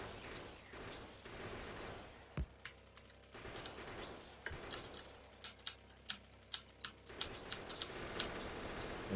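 Turret fire in the Factorio video game, a string of quick, sharp pops and ticks at an irregular rhythm over a low, steady game background, no talk.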